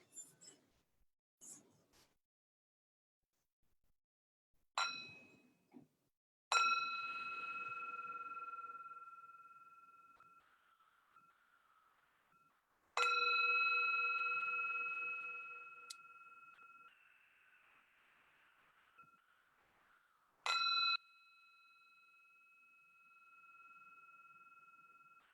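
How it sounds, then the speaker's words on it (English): A small bell is struck four times during a meditation practice, each ring a clear sustained tone that lingers and fades slowly, with quiet pauses and faint breathing sounds between strikes. "I'll be using the sound of a small bell throughout this practice"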